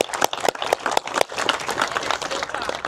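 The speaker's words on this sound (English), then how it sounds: "So everybody give yourselves a big round of applause for that" Drivers at a 24 Hours of Appalachia drivers' meeting give a round of applause, sharp separate claps at first that swell into a fuller burst of clapping, close and moderately loud.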